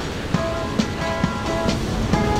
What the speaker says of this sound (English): Oh, here comes a big wave.